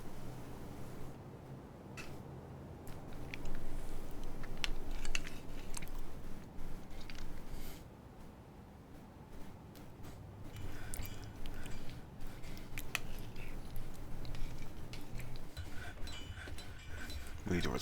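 Close, wet mouth noises of someone chewing and swallowing yogurt, with soft squishes and clicks running continuously and fairly loud throughout.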